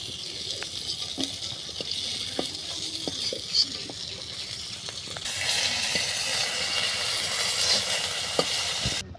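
Fish fries in hot oil in a pan, a steady soft sizzle with scattered small pops and crackles that grows a bit louder midway, with no talk over it.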